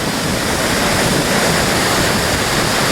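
A loud, steady roar of falling water at Natural Dam fills the air continuously, close and unbroken, with no voices.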